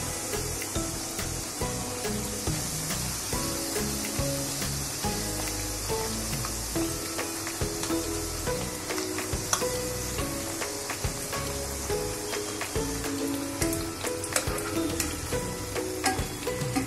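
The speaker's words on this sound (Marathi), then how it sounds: "मंद ह्याच्यावरती छान तळून घ्यायच्या लालसर होईपर्यंत" Pumpkin puris deep frying in oil over low heat until reddish: a continuous bubbling sizzle with small crackles throughout, fairly close and even, with no talking.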